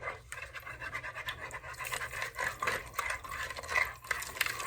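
Lye is stirred into water in a non-metal container for making soap from leftover bacon grease, giving a soft continuous swishing and scraping with occasional light clinks, faint and close with no talk.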